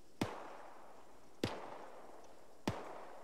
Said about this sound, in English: AK fire.